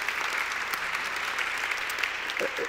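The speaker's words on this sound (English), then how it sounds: "Let's give him another round of applause." Audience applause at a conference dialogue event in Berlin, a dense continuous patter of many hands clapping at moderate distance, steady throughout with a few louder claps near the end.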